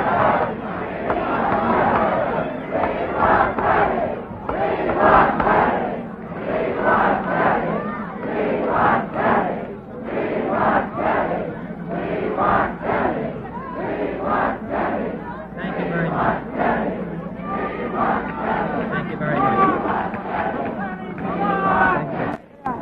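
A packed California election-night ballroom crowd of Robert Kennedy supporters cheers and shouts loudly and continuously, a dense roar of voices rising and falling in waves throughout.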